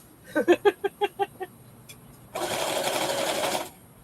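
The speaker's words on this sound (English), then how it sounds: "I'm just sewing a straight line around the body of the bag." A sewing machine stitches a straight line around the body of a quilted bag. A short series of rapid thumps comes first, then a steady whirring run of about a second and a half, close and moderately loud.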